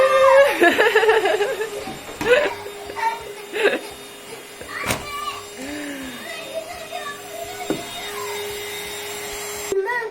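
An electric vacuum cleaner whines loudly at the start, then cuts in and out in short bursts while a child and an adult talk and squeal over it.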